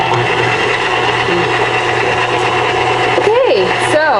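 A stand mixer runs at medium speed, churning dry tortilla ingredients in a steady, close motor whir, with a brief rising sweep near the end.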